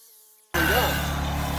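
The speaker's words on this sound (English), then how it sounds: "is taking the little saw and we're cutting along the chalk line this time" A small saw bites into a white oak header along a chalk line, its loud, close, steady buzzing whine starting suddenly after a near-silent pause and continuing without a break.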